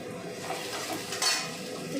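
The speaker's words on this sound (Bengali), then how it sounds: "পেঁয়াজটা একটুখানি ভাজলেই একদম ভাজা ভাজা হয়ে যাবে" Onion frying in a pan, a soft, steady sizzle with light scraping and clinks of a utensil against the pan, close but quiet.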